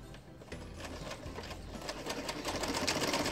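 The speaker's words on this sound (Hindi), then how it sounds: "हमने इस तरह से इस पर सिलाई लगाई, मुकम्मल सिलाई लगा के फिर हम इसको सीधा करेंगे" Sewing machine stitching a dupatta, heard as a steady rapid mechanical whirr and patter that runs throughout and grows slightly louder, close and continuous with no talk.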